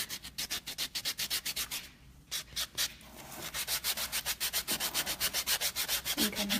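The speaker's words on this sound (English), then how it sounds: "I'm lightly buffing." A nail buffer rubs over glitter dip powder nails in quick, rhythmic strokes, a dense close scratchy sanding with one brief pause midway.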